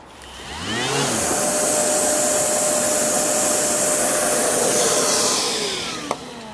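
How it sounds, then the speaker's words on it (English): A Makita 40V cordless vacuum spins up with a rising whine, runs at a loud steady whoosh for several seconds, then winds down, ending with a single sharp click. "as soon as you push the chip button on here, your vac will start working"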